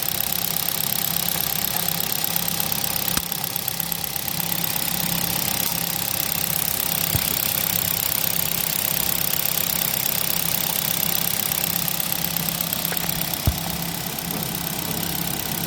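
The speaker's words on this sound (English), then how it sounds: "No smoke. And no oil coming out." A white Hyundai Accent sedan engine idles steadily for the whole stretch, an even mid-pitched hum with a faint ticking rhythm and a couple of small clicks, no voices.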